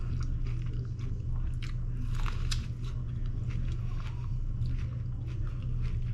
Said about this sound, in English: excuse me for my my dirty eating